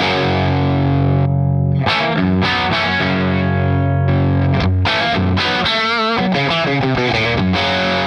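Loud distorted electric guitar through a Revv D20 tube amp with 6L6 power tubes, sustained chords and ringing notes, then quicker picked phrases, heavy crunch and no voices.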